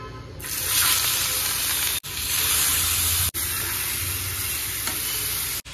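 Fish frying in a pan gives a steady, loud sizzle that runs unbroken throughout, with a few sharp clicks or clatters cutting in. No one speaks.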